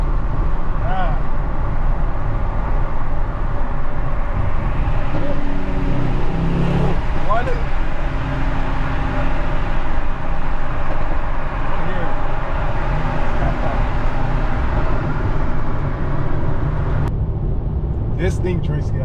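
A Mercedes-AMG E63 S with a V8 engine cruising, its low continuous engine drone and road rumble steady from inside the cabin while people chat over it.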